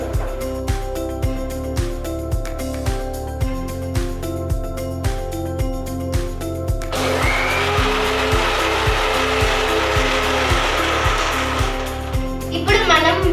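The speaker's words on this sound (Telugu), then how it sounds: "ఇప్పుడు మనం ఫైన్ గా గ్రైండ్ చేసుకుందాం." A blender grinds mango pieces with milk into a smooth mango mastani, its motor steadily whirring for several seconds and then turning rougher and louder as the blend churns, with a rhythmic beat-backed music bed running underneath throughout.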